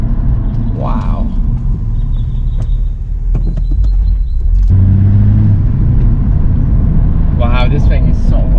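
A BMW M235i with a six-speed manual gearbox rumbles and revs as it downshifts from fourth to first, its engine note swelling under steady road noise with occasional voices in the cabin.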